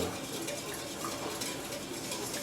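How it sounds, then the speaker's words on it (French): A whisk or spoon stirs chocolate syrup mixture in a bowl as it cools, a steady, close scraping and swishing that runs continuously without pause. "Il faut bien mélanger comme ça jusqu'à ce que ça refroidisse"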